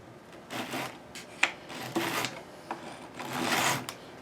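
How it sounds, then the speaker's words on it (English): Metal file dressing the fret ends on a 1970 Les Paul Custom during a refret, tilted slightly at the edge: close, repeated rasping strokes in an uneven rhythm, alone and without talking. "I tilt that file ever so slightly"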